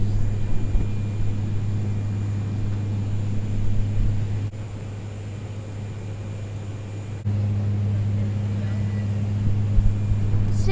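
Steady, loud Fokker 50 propeller-aircraft cabin drone in flight, with a strong low hum and a constant pitch, briefly dipping and then returning.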